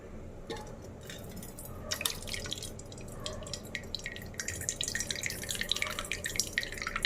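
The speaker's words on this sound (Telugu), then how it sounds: "సో ఇలా బాగా ఉడికినప్పుడు ఇందులోని వాటర్ అన్నీ వంపేసుకోవాలి." Water drained off a pot of soft boiled tomatoes into a separate bowl, heard as close, irregular splashing and dripping with wet trickles that grow busier toward the end, with no talking.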